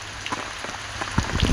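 Heavy rain falls outdoors, a steady hiss of drops on surfaces with a few louder close splatters and some rising intensity toward the end, and no talking.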